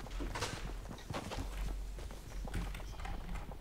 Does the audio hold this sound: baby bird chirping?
no